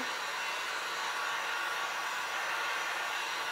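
A hair dryer blows a steady, loud, even whoosh for a few seconds over a wet decoupage napkin glued down with liquid matte medium on a thrift store book cover.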